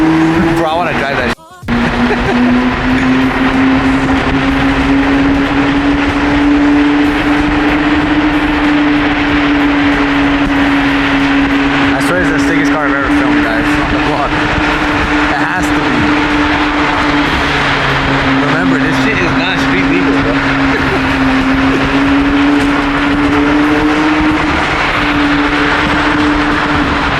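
A McLaren Senna GTR driven on Los Angeles streets, its engine holding a loud, steady drone throughout with a brief dip near the start, while people talk excitedly over it.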